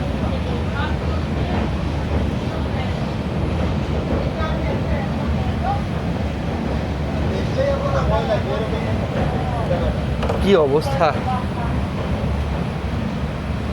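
A passenger train on the Mizoram to Kolkata route rumbles steadily across a low bridge above a small river, a continuous rolling drone with faint squeals, while a voice speaks briefly over it.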